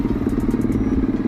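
A Kawasaki Z200S motorcycle idles with an open pipe exhaust, a close, loud, lumpy low rumble with rapid uneven pulses and light metallic clatter.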